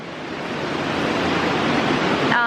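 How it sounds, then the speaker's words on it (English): Roaring river water rushing through Vintgar Gorge in Slovenia, a steady loud broadband wash of whitewater that holds constant throughout without pause. "the water is roaring"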